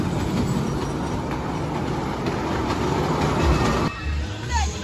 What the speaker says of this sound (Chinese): 火车来啦！